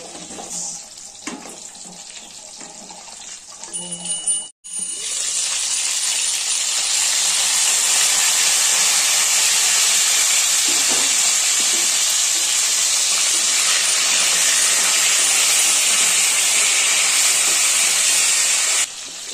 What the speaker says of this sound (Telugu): చూడండి ఎంత బాగా వేగినాయో వంకాయలు.